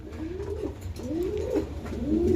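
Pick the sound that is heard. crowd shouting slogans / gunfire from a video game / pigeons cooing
pigeons cooing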